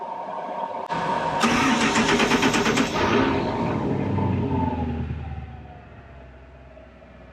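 A marine inboard boat engine cranks and catches with a sharp start, roars briefly, then settles into a steady low idle that continues to the end.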